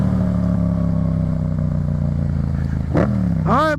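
A Yamaha FZ-07 motorcycle being ridden, its engine humming steadily up close with a sharp burst and rising revs near the end.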